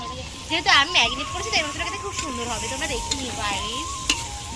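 Marinated meat sizzling and frying in a pan at an all-night family picnic, a steady close hiss with stirring scrapes, while people talk and laugh loudly over the cooking.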